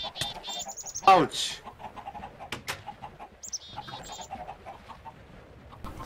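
Chickens in the video game Minecraft (Tekkit modpack): short clucks and a burst of flapping wings among game sound effects, with a man's brief exclamation of pain.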